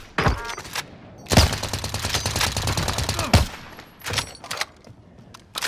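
Gunfire erupts in the shooter Warzone: a short crack, then a long loud automatic burst lasting about two seconds, followed by a few scattered sharper shots, close and harsh, with no speech.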